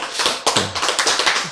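Hands clapping in a steady brisk rhythm, about a dozen sharp claps close and loud during a lecture, with no talking over them.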